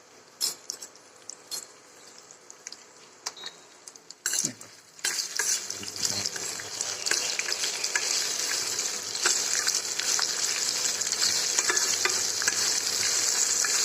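Spices with chilli, black masala, turmeric and salt are fried and stirred in a pan: scattered scrapes and clicks first, then a loud, steady close sizzle with ongoing stirring scrapes.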